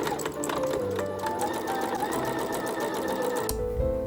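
A sewing machine stitches a blouse sleeve in a fast, even mechanical chatter that runs steadily and then stops abruptly near the end.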